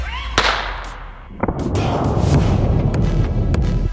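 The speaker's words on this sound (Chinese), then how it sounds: "先从这颗最小的子弹开始，能发射这种子弹的枪也非常袖珍" A tiny pocket pistol fires its smallest-calibre bullet into a bag of beef fat, one sharp close crack followed by a few more short snaps and thuds against a low background hum.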